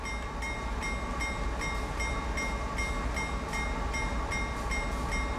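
A CSX heavy haul coal train in a railway simulator game rolls slowly past, with a loud continuous rumble and a steady, evenly spaced clicking of wheels over rail joints.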